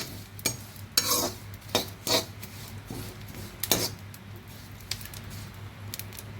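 Dry fruits for protein ladoo roasting in a pan, with a utensil scraping and stirring in irregular strokes over a faint sizzle, close and fairly quiet with no talking.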